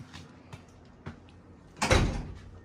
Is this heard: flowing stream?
no